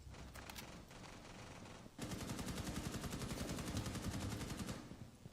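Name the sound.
gunshots in a video game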